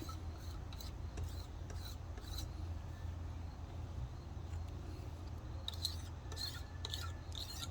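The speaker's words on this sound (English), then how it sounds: "You're just scraping the surface. Just getting that residue off." A scraper works gasket residue off an intake manifold surface during intake gasket replacement, giving continuous close rasping and scraping strokes over a low hum.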